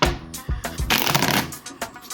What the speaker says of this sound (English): I'm going to shuffle it one more time on camera.